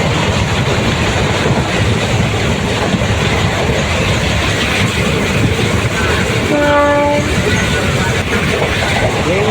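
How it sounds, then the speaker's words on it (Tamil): A train between Nagapattinam and Karaikal rushes along at full speed with a steady loud roar and rattle, and a horn sounds briefly partway through. "ஃபுல் ஸ்பீடுங்க ட்ரெயின் காட்டு வேகம்"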